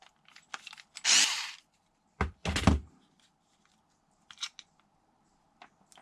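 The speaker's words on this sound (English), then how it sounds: "what I need to do is now just remove this screw right here" A screw is removed from an Arrma Mojave 6S BLX RC car during a rear refresh. Several short, sharp driver clicks and scraping bursts come close up in a quiet room, with gaps between them.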